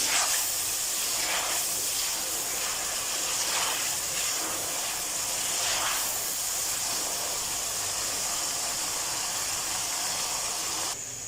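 Green peas roasting in a pan for an egg and pea curry give off a steady, loud hiss of sizzling that holds evenly for about eleven seconds before cutting off.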